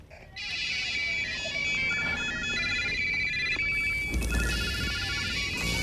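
A telephone rings with a repeated electronic tone pattern, moderately loud and close, and a burst of noise breaks in near the end.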